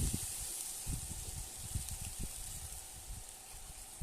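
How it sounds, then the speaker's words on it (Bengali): Water poured into a hot pan with rohu fish and bottle gourd, a faint steady hiss and gushing with low bubbling underneath, heard alone. "এবার জল দিয়ে দিচ্ছি।"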